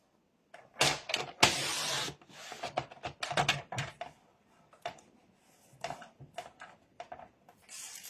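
Paper being trimmed to size for a scrapbooking box: a series of sharp, close cutting strokes and slides, clustered bursts separated by short pauses, with some quieter shuffling between.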